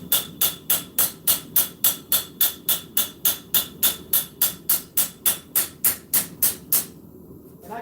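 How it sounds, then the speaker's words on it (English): A hammer rings out in a fast, even series of about twenty sharp strikes on an anvil while planishing and straightening low-heat forged steel for an EDC blade, loud and close, then stops abruptly. "All we're doing right now is planishing and straightening."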